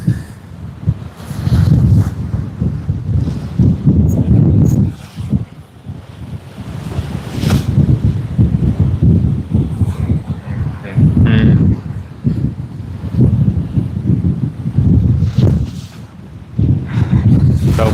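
Strong wind at Sydney Airport buffets the microphone in heavy, rumbling gusts while waves splash nearby, with loud surges that come and go throughout.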